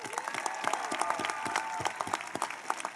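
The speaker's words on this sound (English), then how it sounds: "Please join me in giving an applause." Audience applause at a high school graduation ceremony for the class of 2021, a dense, steady patter of clapping hands holding evenly for several seconds with faint voices mixed in.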